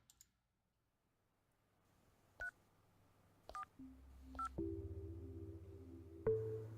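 A telephone number being dialed: a few spaced touch-tone beeps with clicks, then a rising hum and steady tones, all quiet and close.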